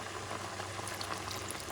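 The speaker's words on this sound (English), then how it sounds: "just add a little bit of the beef stock" Beef stock is poured into a pot of venison chili with black-eyed peas, a soft, steady liquid splash and bubbling simmer, fairly quiet and continuous with no talking.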